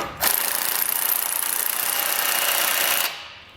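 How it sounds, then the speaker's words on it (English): A power tool tightens the large bolt on a Roadmaster Direct-Connect base plate fitted to a 2020 Chevrolet, giving one loud, close, rapid rattling burst of about three seconds that stops abruptly. "we'll come back and tighten down the big bolt first."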